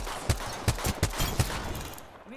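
Gunfire in the Apex Legends video game, a handful of heavy, evenly spaced shots, about one every third of a second, loud and close before trailing off.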